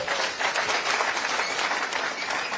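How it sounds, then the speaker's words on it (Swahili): A crowd applauds Bridget at a Kenya Kwanza meeting with people with disabilities in Nairobi. Dense, sustained clapping from many hands stays loud and even for the whole stretch. "Makofi kwa Bridget."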